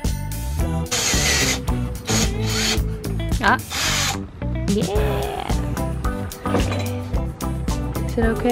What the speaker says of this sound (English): We've put down some padding to help protect the solar panel from the drill bit once it drills through the metal.